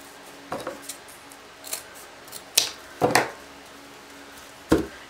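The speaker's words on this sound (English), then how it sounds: "So I'm just going to cut all these." Scissors snipping through decorative mesh for a winter icy wreath, giving a handful of crisp, close cuts spaced irregularly with quiet pauses between.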